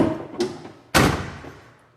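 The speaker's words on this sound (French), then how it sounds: "Attends, je vais fermer la porte." A door is pushed shut indoors: a soft knock, then a firm thudding close that rings out briefly, heard near and alone without talk.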